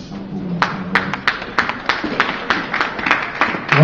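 A church congregation claps in uneven, rhythmic bursts of applause, close and fairly loud, with voices faintly mixed in.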